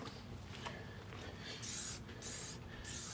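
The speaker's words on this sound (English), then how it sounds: "get some more Dawn, spray everything, get nice and lubed up." Three short bursts from a spray bottle of Dawn dish soap hiss onto a Polaris RZR bead-lock tire in quick succession, faint and close, against a low background hum.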